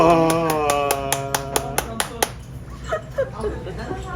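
Hands clap in a steady run of about ten crisp, evenly spaced claps, then a few looser, scattered ones, while a voice sings and speaks over them.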